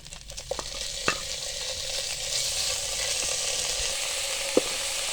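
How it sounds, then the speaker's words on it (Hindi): Chicken frying in about two spoons of oil in a frying pan, giving a steady close sizzle with a few brief clicks and taps of a utensil, no talking. "इसके साथ ही हम इसमें चिकन शामिल कर देंगे"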